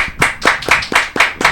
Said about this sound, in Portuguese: Queria uma salva de palmas do estúdio para Fabiola Neves, nossa convidada de hoje.